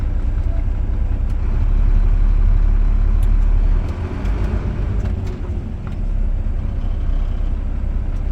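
A Class A truck rolls slowly forward during an in-cab brake test, its engine rumbling low and steady from inside the cab before easing off and settling to a quieter idle.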